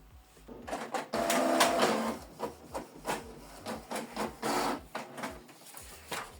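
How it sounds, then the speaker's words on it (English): A Canon Pixma G3590 inkjet printer runs a test page, close-up mechanical whirs and rubbing feed sounds repeating in short pulses with clicks between them. "Print test page."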